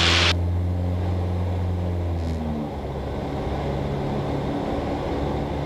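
A Cessna 172 high-wing light aircraft's piston engine drones steadily and loudly from inside the cabin while joining the crosswind leg at Murray Bridge, a constant low hum with faint harmonic tones throughout.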